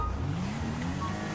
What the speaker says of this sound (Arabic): عربية الباب مفتوحة شغالة